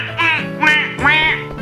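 A Final Fantasy IX character's laugh rendered as nasal, duck-like quacks, three short, rising honks in quick succession, loud and close.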